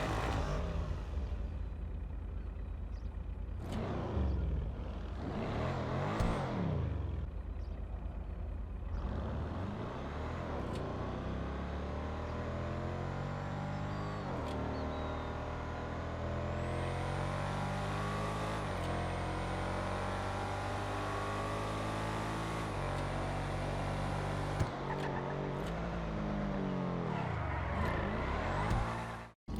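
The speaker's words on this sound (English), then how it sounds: "I've realised that the Schafter V12 has definitely got the loudest startup." Schafter V12 car engine in the video game GTA Online, a loud startup followed by a sustained roar with rising and falling revs and steady idle, heard alone without talk.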